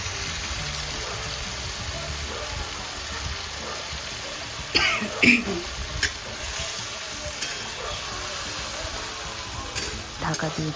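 Spice paste sautéing in hot oil in a pan while cooking koi fish in oil, a steady broadband sizzle with occasional stirring scrapes and a brief cough-like burst midway, close and fairly loud.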